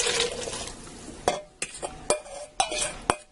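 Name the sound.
adding diced potatoes and water to pot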